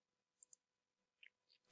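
Several short, crisp computer mouse clicks spaced apart in near silence, a pair early on, then a quick double, then one louder click at the very end, while a host sets up a Zoom screen share.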